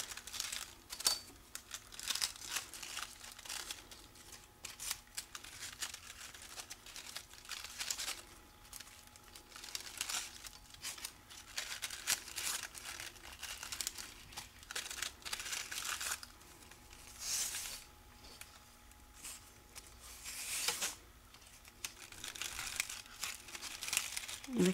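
Floral tape is wrapped around string flower stems, giving continuous close crinkling and rustling with soft papery crackles throughout, no talking.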